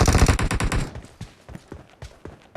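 Rapid bursts of automatic gunfire in a first-person shooter team match, loud and close, dense at first and then thinning into scattered single shots and short bursts.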